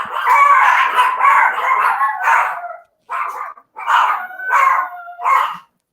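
Dogs bark and howl in a house, loud and close in a long run of overlapping yelps followed by several shorter bursts separated by brief silences.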